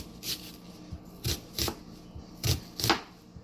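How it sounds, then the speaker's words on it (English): A knife dices a yellow onion on a cutting board, giving five or six crisp, separate chops spaced unevenly over a few seconds, close and clear with no talking. "next I'm back to my yellow onion. I'm going to go ahead and dice this down some."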